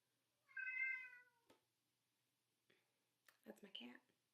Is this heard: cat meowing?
yes